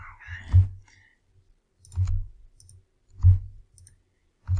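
A computer mouse clicks four times at a slow, uneven pace. The clicks are close, dull and distinct, with quiet pauses between them.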